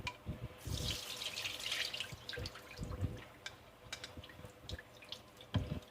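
Water splashes and drips intermittently from a tap over potatoes being rinsed in a sink, fairly faint and close.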